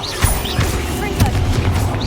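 Confringo fire blast spell cast in the Hogwarts Legacy video game, loud booming bursts with crashing impacts over a dense backdrop of battle effects.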